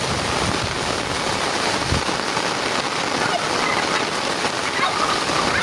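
A turkey gobbles outdoors during steady rain, the calls faint and partly buried under the constant patter of rain.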